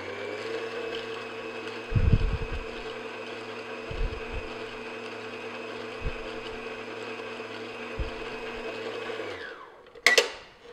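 An electric stand mixer kneads smooth cinnamon roll dough on low speed with a steady motor hum, broken by soft periodic knocks about every two seconds and a brief clatter near the end.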